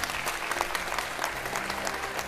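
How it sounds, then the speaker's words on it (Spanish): An audience claps during a church testimony service, giving dense, steady applause throughout the short stretch at moderate volume. "Un aplauso para Jesús,"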